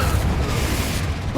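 A short, heavy magical blast from the Confringo fire spell in the video game Hogwarts Legacy, a dense low boom that fills the brief moment with a rumbling burst.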